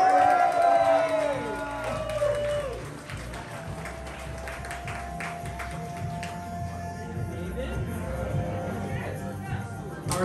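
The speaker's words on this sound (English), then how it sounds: "make some noise, sing along, whoop and cheer, go crazy for Breakdown" Crowd at an awards party for a 48 hour film project whoops and cheers for the winning film, a sustained roar of voices with scattered clapping, following a brief loud shout or whoop at the start.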